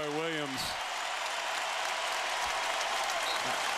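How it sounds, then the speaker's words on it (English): A basketball arena crowd at a UNC vs Florida State college game roars and applauds steadily for several seconds, a dense sustained wash of cheering, with a brief tonal horn-like sound at the start. "And listen to the crowd respond to Kendall Marshall."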